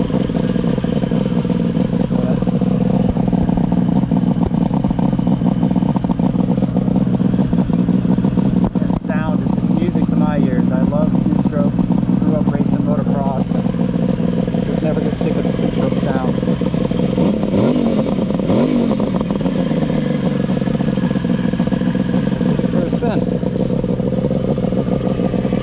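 A Kawasaki H1 two-stroke motorcycle, a kickstart-only model fitted with an expansion chamber, idles and revs close by outdoors at an airstrip. It drones steadily and loudly throughout, with rising and falling throttle blips and some clatter.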